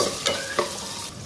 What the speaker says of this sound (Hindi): अभी इसको भी हम अच्छी तरह भून कर लेंगे ताकि ये टमाटर सॉफ्ट हो जाए